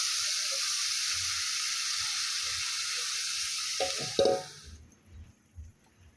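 Raw tomato curry with garlic and salt sizzles and hisses steadily in a pan at close range, then the sizzle cuts off sharply, leaving a few soft clinks and stirring sounds.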